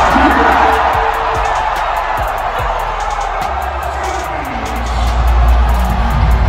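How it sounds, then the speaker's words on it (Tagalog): Arena crowd at the MOA cheering and shouting to welcome basketball player Luka Doncic, a loud, sustained roar of many voices with scattered whoops, swelling near the end. "call out pa lang, sigawan na agad ang MOA crowd bilang pag-welcome kay Luka Doncic"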